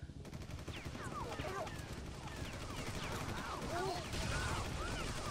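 Gunfire and flying bullets in Oddworld: Munch's Oddysee come as a busy, continuous clatter of shots mixed with chirping, whistling game effects, moderately loud throughout.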